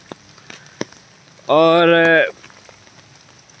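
Rain patters steadily on a house construction site at plinth level during the cold season, with a few sharper drips, and a voice briefly speaks over it.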